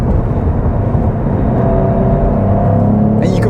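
A Cadillac CT4 Blackwing driven hard through bends on a dry, sunny road, its engine a loud, steady drone with a whirring edge.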